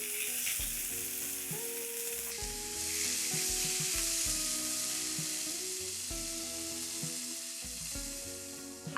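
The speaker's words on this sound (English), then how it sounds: "Fry the onions till they are golden brown and translucent. Add in 1 tomato finely chopped." Onions and finely chopped tomato frying in a pan, a steady close sizzle that swells into a brighter hiss partway through, with occasional stirring scrapes and clinks.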